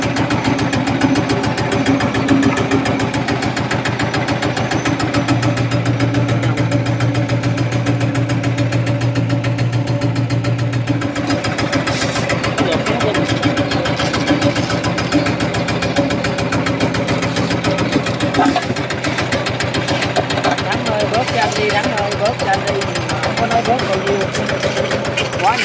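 A Kubota GA75 engine runs steadily at a low, even idle with a soft mechanical hum and faint knocking rhythm, while people talk nearby over it.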